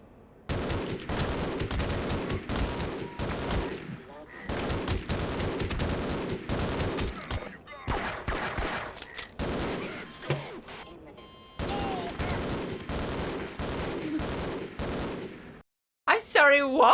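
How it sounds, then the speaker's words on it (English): Army soldiers in a video game shoot with sustained automatic gunfire, loud and close, in long bursts broken by brief pauses. A sharp crash bursts in near the end. "I wasn't expecting the fucking army to start shooting me."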